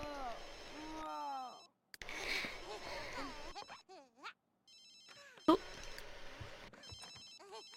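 A telephone rings in The Sims 3, repeated electronic trilling bursts mixed with Simlish chatter and other game sounds, moderately near and partly masked by the voices.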